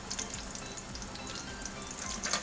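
Pork sizzles and fries in a pan for Bicol Express, a soft, steady crackle with small popping bursts, quiet and close, with no voices.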